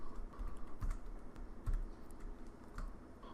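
Typing on a computer keyboard while entering an Excel formula: a steady run of soft, close key clicks and taps at an irregular pace, with no talking.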